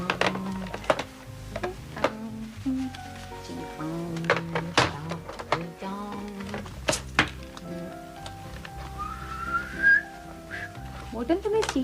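A person whistles in a room in a classic drama scene, with short wavering whistled notes, scattered knocks and thumps, and people talking throughout.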